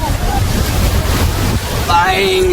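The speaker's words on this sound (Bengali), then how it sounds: "যাচ্ছে দেখো ঢেউটা" Big waves break and rush in on the sea beach at Digha, a loud continuous roar of surf with wind buffeting the microphone and a voice speaking briefly near the end.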